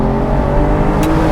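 Aston Martin Virage engine roars at high revs, a dense, loud and sustained mechanical growl heard up close with no talking over it.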